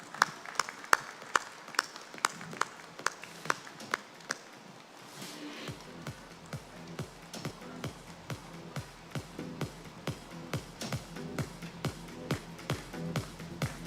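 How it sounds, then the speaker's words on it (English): Scattered hand claps at a foundry industry award felicitation in a hall, starting sparse and settling into a steady, moderately near patter of clapping while music plays underneath. "Give him a big applause"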